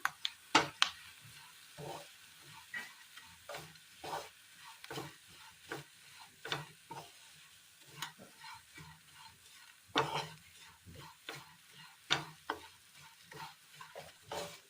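Curry leaves and spices sizzling in a hot pan while being stirred, with repeated scraping stir strokes in an irregular rhythm over a soft frying hiss, close and fairly quiet with no talking.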